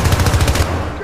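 A quick volley of shotgun fire from the co-op shooter Syndicate, set in a Scandinavia mission, rattles loud and close in a short burst of several rapid blasts before cutting off.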